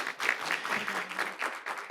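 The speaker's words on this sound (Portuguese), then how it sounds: "Então eu peço a todos uma salva de palmas para a Ana." A conference audience claps for a panelist at a solar energy industry meeting, a short burst of steady, moderately loud applause from a crowd that fills the whole moment.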